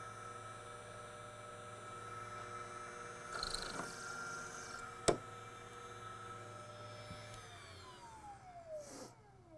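Henderson V3 case trimmer running while trimming a cartridge case, a steady electric motor whine and hum with a brief cutting surge and a sharp click midway, then the motor spinning down near the end.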